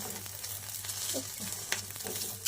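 An egg omelette frying in a pan gives a steady, soft sizzle throughout, with a few faint scrapes and small clicks near the end.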